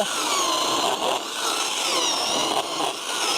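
A Jiapu 16-inch cordless chainsaw cuts through wood with a loud, continuous buzzing whine that holds steady close by, broken only by slight dips in pitch as the chain bites.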